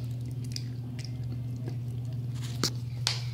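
A person makes wet slurping, lapping noises in quick irregular bursts, imitating a dog drinking, close up over a steady low hum.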